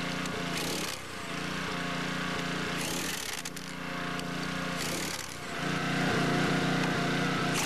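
A powered wrench driving Excalibur screwbolts into a railway track, a continuous loud, rough motor drone with brief dips and surges in tone, close and steady throughout.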